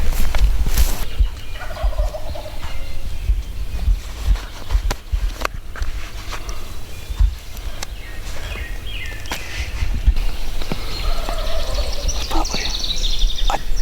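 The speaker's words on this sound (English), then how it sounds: "There's gotta be 4 gobblers over there." Several wild turkey gobblers in Kansas gobble in the morning, loud and repeated bursts at moderate distance, mixed with rustling steps and brief handling noises.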